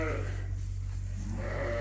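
Suffolk sheep, pregnant ewes penned in a barn, let out a bleat at the start and another at the end over a constant low hum of barn machinery.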